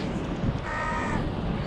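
A single crow gives a short, raspy caw at moderate distance over an outdoor background hum.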